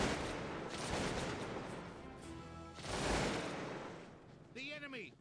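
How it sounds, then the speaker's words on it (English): Massed musket fire from enemy troops rolls in dense, noisy bursts in a Cossacks 2 battle, swelling twice, with a short tonal sweep near the end. "The enemy opened fire."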